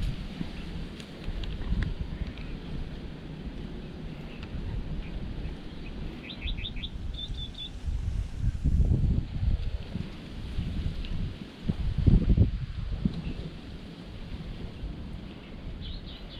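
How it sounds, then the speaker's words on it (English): Strong, gusty wind buffets the outdoors beside a lake during a redfin perch fishing trip, rumbling loudly with heavier gusts, while a few birds chirp faintly in the background. "Not when the wind's this bad though."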